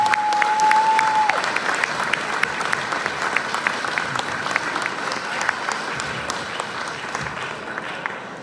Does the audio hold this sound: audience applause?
yes